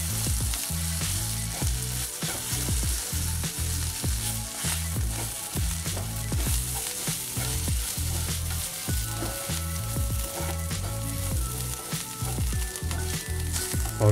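Semolina (rava) stirred and roasted in a pan for sooji upma, with a steady sizzle and a rhythmic scraping of the spoon against the pan, loud and close with no talking.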